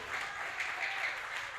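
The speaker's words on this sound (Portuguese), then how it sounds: "Você pode bater palmas, Jesus." A church congregation claps together in a steady, dense burst of applause, filling the room at moderate volume, with faint voices mixed in beneath it.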